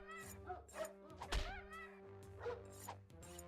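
Combat against a rabbit dog creature in the video game Konung 3 brings a run of faint thunks and whacks, one sharper hit near the middle, over a quiet droning game tone.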